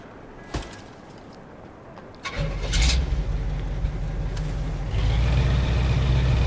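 A car engine starts in the Mafia 2 video game: a brief crank followed by a loud, steady idle that settles into a deeper, fuller rumble, with no talking.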